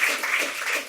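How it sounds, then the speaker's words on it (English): A brief, steady wash of audience clapping for a guest speaker at a talk, moderately loud and continuous with no single claps standing out. "can I just ask everyone to give a big round of applause for Julia Cox?"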